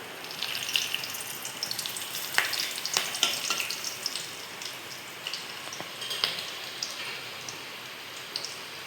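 Bay leaves, black pepper, cardamom and cinnamon sizzle and crackle in hot oil for makhmali chicken, a steady close frying hiss with scattered sharp pops.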